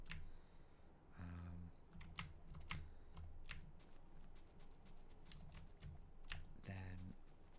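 Loud computer keyboard clicks during a Minecraft gaming session, a steady patter of close, crisp keystrokes with occasional heavier bursts, recorded quietly and close up.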